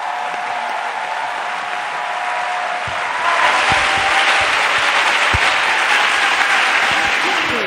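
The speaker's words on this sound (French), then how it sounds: "Acclamons très fort notre Seigneur." A church congregation breaks into sustained applause and cheering, steady clapping swelling louder after a few seconds and filling the hall.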